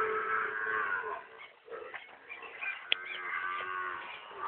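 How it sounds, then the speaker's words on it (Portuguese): Cattle in a confinement pen, a group of recently inseminated cows, moo continuously in overlapping drawn-out calls, loud and close, with a brief dip midway. "Vacas no ATF, confinamento."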